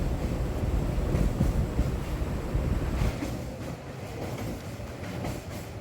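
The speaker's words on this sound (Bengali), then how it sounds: "আমাদের ট্রেন এখন কোলাঘাট ব্রিজ পেরোচ্ছে।" A MEMU local train crosses the Kolaghat bridge in the evening, a steady low rumble with wheel clatter and wind buffeting, heavier at first and easing slightly later, no voices.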